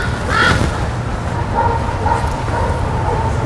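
A dog in a yard gives a few barks, one louder bark early and softer ones later, over low background noise.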